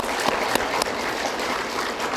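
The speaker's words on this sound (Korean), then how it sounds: "우리 박수 격려 한번 쳐주십시다." Audience applause in a lecture hall, a steady dense wash of clapping throughout with a few sharper individual claps standing out.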